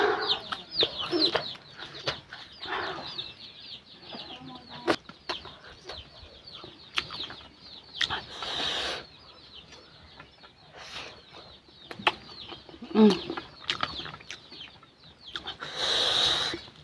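Chickens cluck and chicks cheep in bursts throughout, close by, with scattered sharp peeps over a soft outdoor background.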